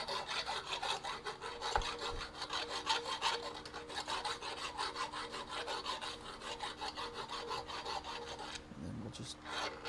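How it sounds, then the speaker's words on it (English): A round file rasps against a metal part to deburr it during a rear-end and suspension swap on a 1991 Camaro, with quiet, rapid back-and-forth strokes close by and a brief clunk near the end. "So you got to deburr the other side."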